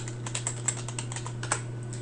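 Close, rapid typing on a computer keyboard, a fairly even stream of key clicks over a low steady hum.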